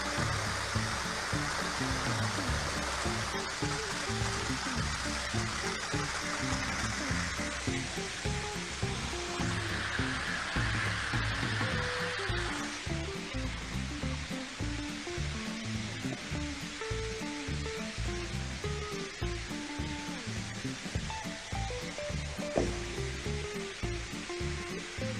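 Water pours and rushes continuously into a tank of freshly picked coffee beans, a steady stream-like hiss and gurgle at moderate distance, with no talk over it.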